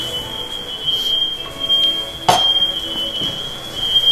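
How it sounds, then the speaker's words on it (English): A kitchen smoke alarm beeping in a steady, sustained high-pitched tone, with a sharp clatter partway through and quiet kitchen sounds underneath. "Go wave off the fire alarm."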